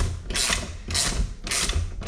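New rocker assembly bolts on a Starion/Conquest engine being tightened down with a ratchet, in three bursts of rapid clicking separated by brief pauses, close and fairly loud.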